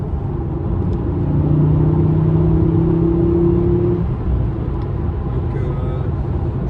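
A 2000s Fiat Coupe 20V Turbo accelerates with a loud rumbling drone that climbs in pitch for about four seconds, then settles into a steady cruise.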